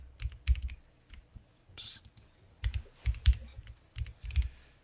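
Someone types on a computer keyboard during a live coding session, producing bursts of close clicks and key thumps separated by short pauses, with faint whispered speech in between.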